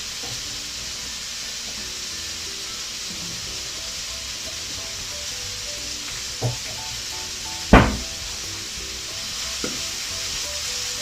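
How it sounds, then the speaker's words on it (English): Red onions sizzling in a frying pan, a steady continuous hiss with a few soft clinks of a utensil against the pan, alone without talk. "you can put your red onions together"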